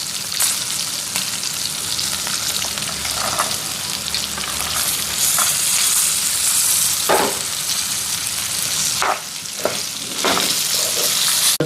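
Coconut pieces frying in a pan for a lentil coconut chutney, with a steady loud sizzle and several scraping stirs breaking through near the end; no voices.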